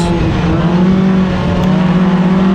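A 4-cylinder race car engine screams at full throttle on the rev limiter while exiting a turn, a loud, sustained, nearly constant high drone heard from close by with no talk.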